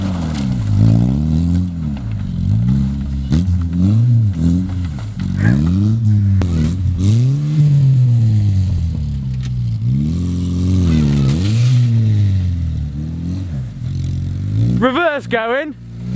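A Nissan Micra's engine revs repeatedly in rising and falling surges while being driven, with clattery gear changes and a sharp high whine near the end, and a voice speaking over it.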